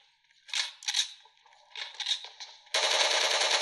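Gunfire in PUBG Mobile played on a Samsung Galaxy S21 Ultra: a few sharp separate shots, then a sustained rapid burst of automatic fire at the end, loud and close with no talk.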